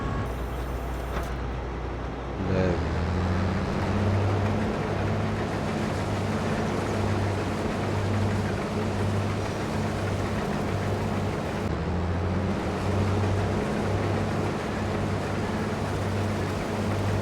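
A steady, loud engine drone with a low rumble runs throughout from a combine harvester cutting rice close by, with no talk.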